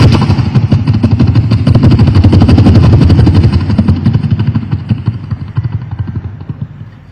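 A mimicry performer at a Kerala state school arts festival voices a helicopter flying, a loud close thudding rotor beat with a deep rumbling drone that gradually fades toward the end.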